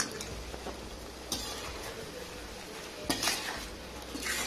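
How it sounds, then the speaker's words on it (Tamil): Chicken liver stirred with pepper and cumin powder in a frying pan, a spatula scraping and clinking against the pan in a few close strokes over a steady low sizzle. "கிளறி விட்டுடலாம்."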